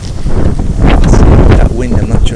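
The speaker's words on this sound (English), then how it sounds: "That wind, I'm not sure it's going to be worthwhile recording here." Strong outdoor wind buffets the microphone, a continuous loud roaring rumble that fills the whole clip with no speech.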